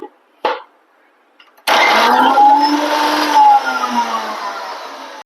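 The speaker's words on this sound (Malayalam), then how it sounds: "ഇനി ഒന്നും കൂടി നമുക്കത് അരച്ചെടുക്കാം" A mixer grinder whirs loudly, grinding a mixture with lemon juice, after a couple of brief knocks and a quiet gap. It holds a steady high whine with a slight dip in pitch.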